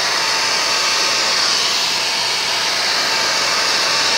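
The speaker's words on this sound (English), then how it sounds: "Select Pro Gold blow dryer with a comb on the top." Select Pro Gold blow dryer with a comb attachment running steadily: a loud, constant whooshing roar of air and motor hum, unbroken for the whole stretch, close up with no talking.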